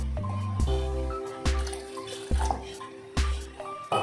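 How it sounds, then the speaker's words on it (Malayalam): Hot water being poured into a dal curry, heard as splashing and trickling liquid in several short bursts with brief pauses between them, close by and moderately loud. "ഞാനിപ്പോൾ കുറച്ച് വെള്ളം ചേർക്കുന്നുണ്ട്"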